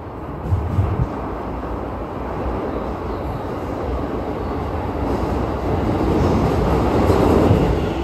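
A Tokyo commuter train on a line running through onto the Keikyu line rumbles and rattles steadily from inside the car, growing a little louder toward the end, with no talking.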